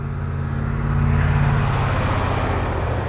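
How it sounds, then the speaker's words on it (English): Truck comes up from behind on the road during a motorcycle test ride and passes, its loud rumble rising and holding over the ride noise. "we got a truck coming up behind me now"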